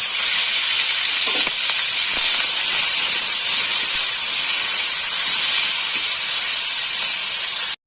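Prawns fry in a small amount of oil in a pan, giving off a loud, steady sizzling hiss throughout with no talking.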